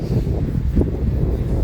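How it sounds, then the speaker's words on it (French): Wind blowing into the microphone during a mountain bike ride along a stony lakeshore trail, a steady low rumbling buffet with gusty swells, close and continuous with no talk. "Donc déjà il y a du vent."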